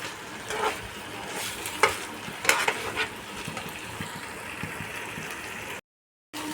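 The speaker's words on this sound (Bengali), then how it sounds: "দেখো আমি আঁচ কমিয়ে এটা কষাবো।" Fried pointed gourd pieces are sautéed in curry masala in a pan over low heat. A soft sizzle runs under occasional stirring scrapes and light clinks, quiet and close, with no talking.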